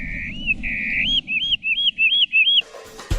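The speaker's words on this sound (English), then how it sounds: "hear hermit warblers singing a certain way" A hermit warbler sings outdoors, a clear high buzzy phrase followed by a rapid series of bright repeated rising notes, loud and close over faint background hiss, ending abruptly with no talking.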